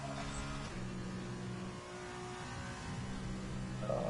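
An F2 race car in a racing video game, its engine note sitting steady, then stepping down and changing pitch as it downshifts and climbs back up, a continuous moderately loud whine with no talking.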